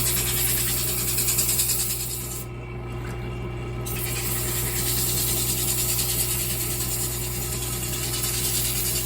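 A resin sphere held on a vacuum chuck is sanded at 150 grit as it spins on a lathe, giving a steady close rubbing whir over motor hum, with a short dip partway through.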